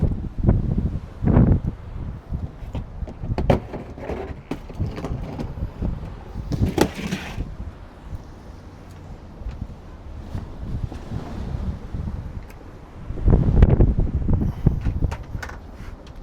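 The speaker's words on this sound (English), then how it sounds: "It's so windy." Strong gusty wind buffets an outdoor microphone in broad, roaring surges, with rustling and knocking of loose objects such as a wobbling folding chair, heaviest near the start and again toward the end.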